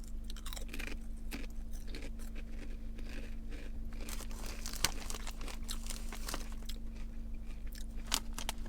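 Close, continuous crunching as someone chews dill pickle flavored gas station snack chips, with rapid irregular crisp bites and crackles over a steady low hum for the whole stretch, no talking.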